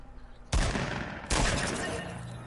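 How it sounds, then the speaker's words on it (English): Gunfire in the video game Fortnite: two sharp, loud bursts of shots about a second apart, each trailing off into a rumbling decay, with faint voices underneath. "Another person shooting at him."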